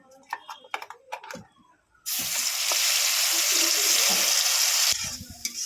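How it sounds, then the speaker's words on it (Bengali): Bean paste hitting hot oil in a pan with nigella seeds and dried chilli, a sudden loud sizzle that holds steady for about three seconds, with brief clinks and stirring before and after. "সিমের পেস্টটা দিয়ে দেবো"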